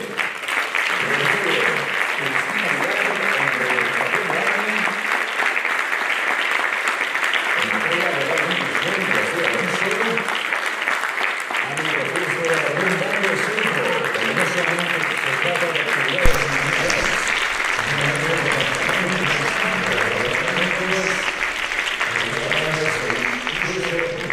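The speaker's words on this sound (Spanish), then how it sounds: "Un forte aplauso para AMI, Agrupación Montañeros Independiente" Sustained applause from a crowd at a mountaineering federation awards gala honoring a climbing club, dense and even for over twenty seconds, with a voice speaking over it and music underneath.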